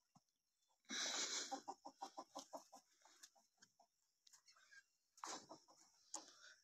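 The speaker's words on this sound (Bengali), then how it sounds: "কত মুরগি, সব দেশি মুরগি," Local free-range chickens at a poultry farm cluck in a quick rhythmic run of loud, close calls, pausing, then another burst of clucking and squawks near the end.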